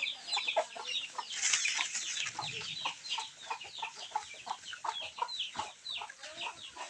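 Native chickens at a small mini farm cluck and chatter continuously, many birds close by making overlapping short calls with steady rhythm.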